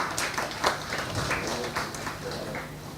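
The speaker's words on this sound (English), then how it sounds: "Let's give him a round of applause for him." An audience at a cybercrime awareness workshop claps in a burst of applause, a moderate, steady patter of many hands that slowly fades over a few seconds.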